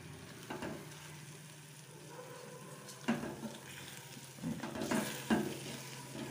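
Egg bhurji frying over a low flame in a pan, with a steady soft sizzle broken by stirring scrapes and a few light clinks of a spoon against the metal, close and without voices.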